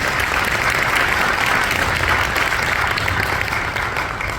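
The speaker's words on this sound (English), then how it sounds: "so a huge round of applause for Ms. Ivins." Steady, full applause from an audience at an elementary school fifth-grade winter concert, loud and sustained for several seconds, with no speech over it.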